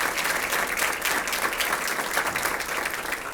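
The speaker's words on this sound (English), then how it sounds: "One more round of applause for the Kathy Orchestra" Clapping at a McAllen ISD teachers of the year event after a student orchestra's performance, a dense sustained burst of many hands, loud and close, unbroken throughout with no voices.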